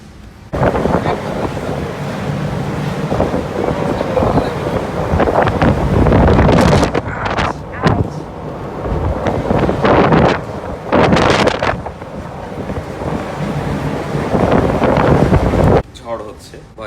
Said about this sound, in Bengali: প্রচণ্ড বাতাস আর বৃষ্টি